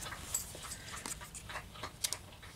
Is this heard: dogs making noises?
yes